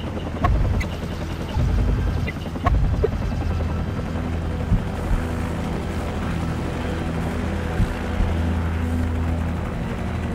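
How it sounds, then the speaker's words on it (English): Helicopter in the video game Call of Duty: Modern Warfare, a steady loud rotor thrum filling the whole stretch, with a few sharp impacts and bangs punctuating it early on. "Take it out that helicopter, it'll buy us some time."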